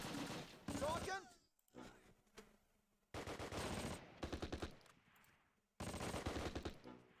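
Machine gun bursts from the World War II game Close Combat: Last Stand Arnhem, with loud rapid volleys in several separate clusters and brief pauses between them.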